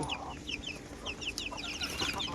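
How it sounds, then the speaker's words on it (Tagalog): Hens and young chicks clucking and cheeping near at hand, a busy overlapping chorus of short peeps and low clucks against a farmyard background. "Ito yung huli kong mga sisiw."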